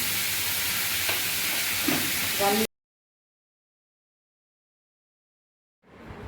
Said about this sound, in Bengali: আমি ভালো করে ভাজছি এটা